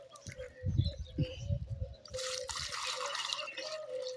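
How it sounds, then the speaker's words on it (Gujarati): Water is poured into a hanging bird water bowl, a soft trickling splash near the start giving way to a gentle steady flow, with faint birds chirping in the background. "આપણે પાણી અંદર રેડી મસ્ત ફર્સ્ટ ક્લાસ ઉપર લટકાઈ દઈએ"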